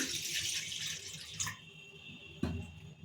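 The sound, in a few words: water poured into a kadai (wok)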